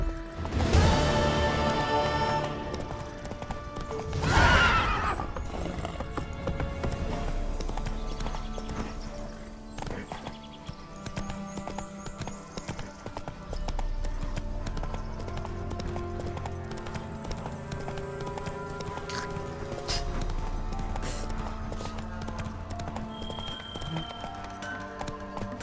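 Horse Roach gallops in The Witcher 3: The Wild Hunt, with continuous rapid hoofbeats under game music and ambience. Two sharp louder hits land early on, and a brief neigh is possible.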